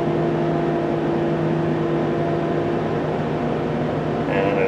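A Chevy Trailblazer engine with a failing electric fan clutch is held at a steady 3,000 RPM, a constant loud mechanical drone and whir that stays even throughout, with a faint higher whine joining near the end.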